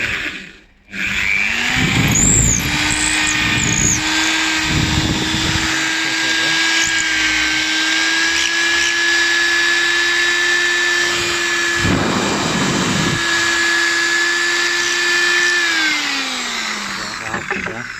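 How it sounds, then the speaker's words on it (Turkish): A power drill enlarges a hole in wood while a bathroom sink shelf damaged by water and moisture is repaired. The motor whines steadily and loudly for most of the time, spins up and winds down, and someone talks over it. "bu deliği biraz daha büyük bir matkapla delip"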